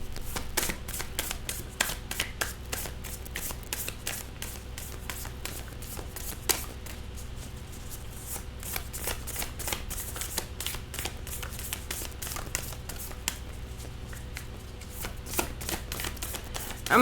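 Oracle cards are shuffled by hand for a reading, giving a long, continuous run of close, crisp riffling and soft card slaps that repeats steadily with no talking over it.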